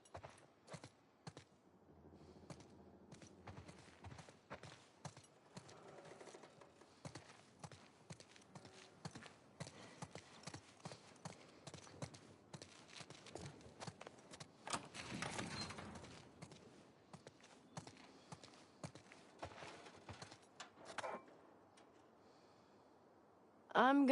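Horses clip-clop along in The Last of Us Part II, a quiet run of soft, irregular hoof falls with occasional snorts and breathing, lying beneath and between stretches of talk.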